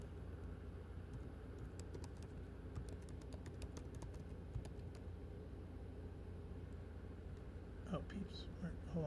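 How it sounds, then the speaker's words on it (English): Scattered computer keyboard key clicks tapping irregularly over a low, steady hum, with a short burst of voice near the end. "Hold on, I'm typing it."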